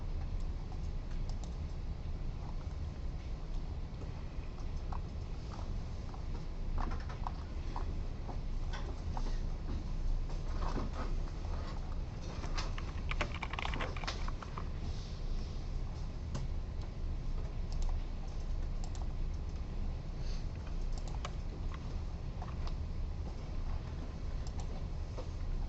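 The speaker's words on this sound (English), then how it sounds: "I know people were still typing them in." Students in a college lecture room type on computer keyboards, a soft, scattered patter of key clicks that continues throughout against a steady room hum, with no talking.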